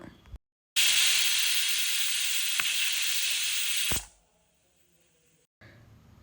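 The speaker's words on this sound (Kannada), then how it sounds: "ಕುಕ್ಕರ್ಗೆ ಹಾಕಿ ಒಂದು ಮೂರರಿಂದ ನಾಲ್ಕು ಕೂಗನ್ನ ನಾವು ಕೂಗಿಸ್ಕೊಳ್ಳೋಣ" A pressure cooker of horse gram with tomatoes and salt lets out a loud, steady steam hiss for about three seconds, which cuts off abruptly and leaves a quiet kitchen background.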